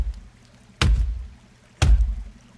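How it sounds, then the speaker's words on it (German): An axe strikes a dead tree twice in the survival video game The Forest, each a heavy, booming chop about a second apart, loud and close with a short decaying rumble. "Ein toter Baum. Was passiert, wenn ich den fälle?"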